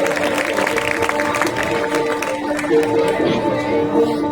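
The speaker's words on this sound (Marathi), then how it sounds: "यांच्यासाठी जरा जोरदार सर्वांनी टाळ्या वाजवायच्या आहेत" Audience applause at the opening of a children's taluka-level sports competition in a village, steady clapping with scattered sharp claps over a sustained tonal hum from a sound system.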